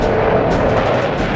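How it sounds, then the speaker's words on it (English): A short, loud, continuous burst of 30mm aircraft cannon fire from a desert dogfight, a dense rapid rumble filling the whole moment with no voices. "A short burst of 30mm cannon fire."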